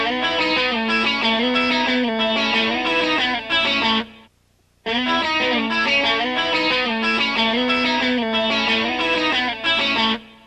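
A clean electric guitar with a touch of chorus plays an intro lick. The bright, rhythmic riff repeats twice, separated by a brief silent break near the middle.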